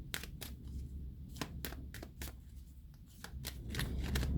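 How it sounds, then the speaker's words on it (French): Tarot cards are shuffled and drawn close up, a run of quick papery riffles and snaps coming in irregular bursts, fairly faint with a low background rumble and no talk. "je vais rajouter une carte tout de suite"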